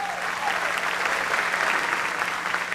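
Dense, sustained applause from a large audience at an anniversary show, steady and enveloping throughout with no gaps.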